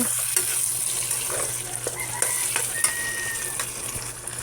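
Ground pork being stirred with tomato sauce in a frying pan, a continuous soft sizzle with scattered scraping and clinking of the utensil, close and steady, with no talking.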